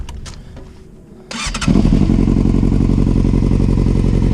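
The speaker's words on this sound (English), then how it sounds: "Again, I'll start the bike." Yamaha YZF600R Thundercat motorcycle from 2005 with a Delkevic exhaust, starter cranking briefly before the engine catches and settles into a loud, steady idle burble, close up with no talk.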